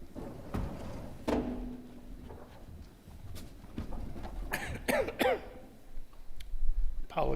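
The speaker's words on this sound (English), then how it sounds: "Apologize for my coughing." A person coughs and clears their throat a few times during a Friday night Kabbalat Shabbat service in a synagogue, with short rough bursts amid quiet room sound and brief voices nearby.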